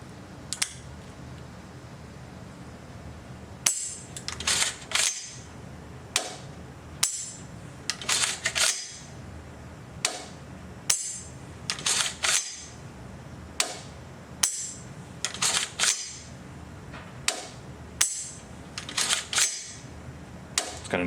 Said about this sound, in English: do some dry fire practice so you guys can see the trigger movement, you can hear the break, and you can hear the reset